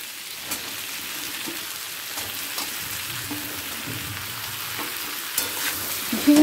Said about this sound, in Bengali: ঝিঙেটাও আলুর সাথে মিশিয়ে নেব